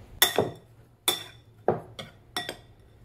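A spoon clinks against a bowl while cinnamon and sugar are stirred together, making five crisp, ringing knocks in an uneven rhythm. The sound is close and clear, with silence in between.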